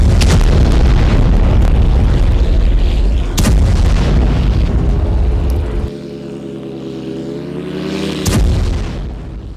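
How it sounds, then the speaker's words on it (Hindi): Loud, close booms and bursts from explosions after a Ukrainian attack on a Russian army camp and weapons depot, heavy rumbling blasts followed by a sustained droning tone and another sharp burst near the end. "यूक्रेनी हमले के बाद एक कई धमाके हुए हैं।"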